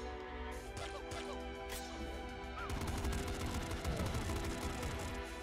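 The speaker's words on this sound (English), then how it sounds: "I think pop gun's gonna be good just because of the sheer amount of bullets we can get out there" Pop gun in the game Nuclear Throne firing rapid streams of small bullets, a busy stream of quick clicky shots over game music and effects, growing denser halfway through.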